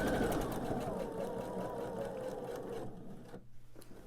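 Sewing machine stitching rows of a quilt top together: a steady, continuous mechanical whir close by, easing off briefly near the end.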